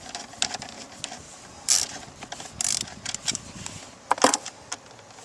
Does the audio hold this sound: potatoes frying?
no